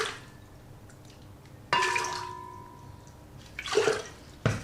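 Water is poured into a mixing container for a pottery-supply compound while making a heat treating oven, heard as a few splashing pours that start abruptly, the loudest near the middle and end, over a low room hum.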